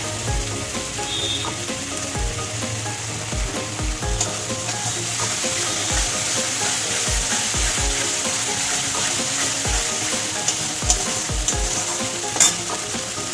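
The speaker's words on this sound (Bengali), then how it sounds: "ভালো করে একটু কষিয়ে নেবো" White paste fried and stirred for Bengali prawn malai curry, a dense continuous sizzle with regular spoon knocks and scrapes against the pan, close and loud throughout, no talking.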